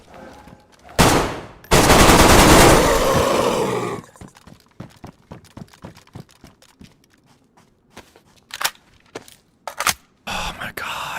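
Loud bursts of automatic gunfire in the DayZ video game, a short burst followed by a longer sustained volley, then scattered quieter single shots and clicks with pauses between them.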